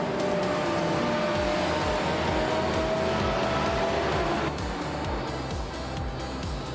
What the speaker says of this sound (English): Apuroni is driving a 1968 Alfa Romeo T33-2 Longtail.